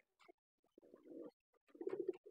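Soft pigeon coos come close by in a few short bursts, separated by brief quiet gaps.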